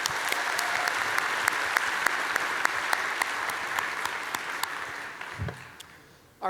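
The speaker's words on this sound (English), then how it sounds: "another round of applause, guys" Audience at a cosplay competition on stage applauds steadily, a moderate wash of clapping with a few sharp distinct claps standing out, fading near the end.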